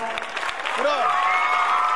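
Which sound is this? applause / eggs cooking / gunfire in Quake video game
applause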